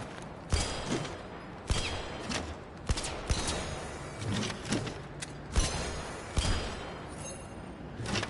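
Gunfire from target shooting in the VR game Blood and Truth, sharp shots spaced irregularly every second or so, loud and punchy over a steady background hiss.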